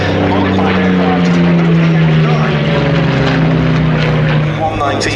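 A Yakovlev pair, a Yak-3 and a Yak-9 fighter, flying at the Duxford Battle of Britain Airshow, their piston engines droning loud and close in a sustained, wavering roar with shifting pitch.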